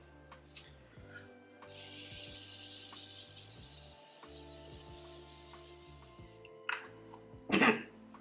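A sustained hiss of makeup setting spray runs for several seconds over a steady musical background, followed by a couple of short, sharper bursts near the end.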